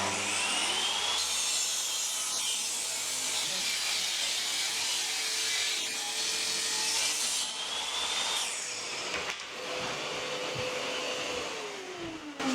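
A table saw cuts through wood in a workshop while a micro camper's pull-out kitchen is being built, giving a continuous loud whine and rasp that holds for most of the stretch before dropping away near the end.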